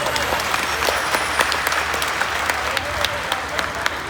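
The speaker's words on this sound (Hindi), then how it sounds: "हम सब करतल ध्वनियों से श्री महाराज जी का स्वागत करेंगे" An audience at a Shri Ram Katha gathering in a school courtyard claps to welcome a revered Maharaj, giving a steady, moderately loud round of applause with sharper individual claps standing out.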